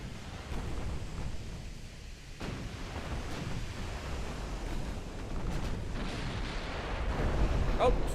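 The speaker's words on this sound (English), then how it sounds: "Darn high explosive spamming American battleships." American battleships fire high explosive shells in Ultimate Admiral Dreadnoughts, heard as dull, rumbling distant booms rolling over a constant roar of sea and battle noise.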